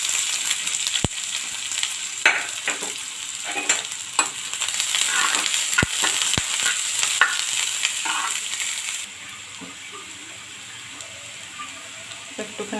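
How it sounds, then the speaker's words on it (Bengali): Onion and garlic sizzle steadily in hot oil for mashed potato, with intermittent scraping and stirring clicks from a spatula, the frying hiss dropping to a quieter simmer partway through. "আলু ভর্তার জন্য পেঁয়াজ আর রসুনটা ভেজে নেব।"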